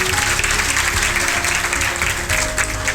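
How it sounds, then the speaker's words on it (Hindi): An audience at a gathering applauds its teachers with loud, dense clapping that carries on without a break for the whole stretch. Faint voices and cheers sit beneath it. "तो एक उन टीचरों के लिए जोरदार ताली बजाएंगे आप।"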